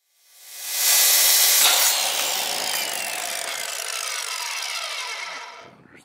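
A Black & Decker miter saw fitted with a Diablo Steel Demon blade cuts through metal: a loud, harsh grinding whine that rises quickly, holds steady for several seconds, then winds down.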